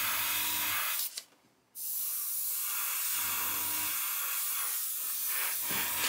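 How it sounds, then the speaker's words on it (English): Steady hiss of spray paint being applied to a masked Airfix 1/72 Vulcan model kit, continuous and close, briefly stopping partway through before resuming for a long run. "So what I do here is just come along and just spray this area in here."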